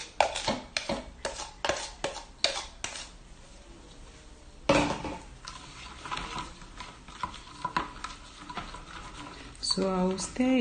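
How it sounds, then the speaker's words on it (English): Ice is stirred into carrot liquid for making cold-process soap, a utensil clinking and scraping against the container in quick, uneven strokes, close and crisp, with a loud knock partway through and a few spoken words near the end. "So I'll stir it till all this small ice dissolve, and then it all becomes liquid"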